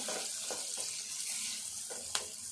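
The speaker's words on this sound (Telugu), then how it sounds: "ఈ ఉల్లిగడ్డ ఇట్లా దూరగా వేగాలి." Onion frying in a pan for a paneer curry, a soft steady sizzle close by with a few light scraping stirs and one sharp tap near the end.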